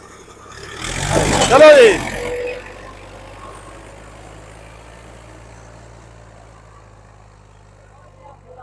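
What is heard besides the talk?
tractor engine running in a tractor pulling contest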